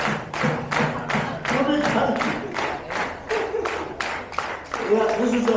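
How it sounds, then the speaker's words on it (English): A Polynesian cultural show audience claps in a steady, regular rhythm, loud and near, with an energetic host's voice calling out over the beat. "Everybody clap your hand"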